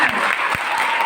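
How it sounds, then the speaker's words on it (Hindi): Audience applause at the closing ceremony of a college NSS special camp, a dense, steady patter of many clapping hands filling the whole second at close, fairly loud level. "अपने लिए तालियां बजाओ"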